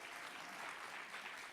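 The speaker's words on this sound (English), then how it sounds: "Let's give her a hand of applause." An audience claps steadily for the MC at an awards ceremony, with sustained, fairly faint applause filling the whole moment.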